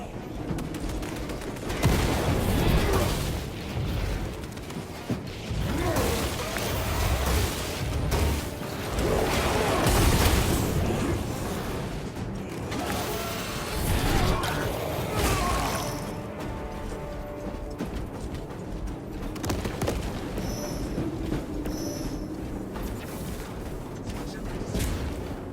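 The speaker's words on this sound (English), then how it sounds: "Frag grenade outbound." A frag grenade explosion in the video game Warhammer 40K Space Marine 2, with heavy booming bursts and rumbling blasts among continuous loud combat noise and game voices.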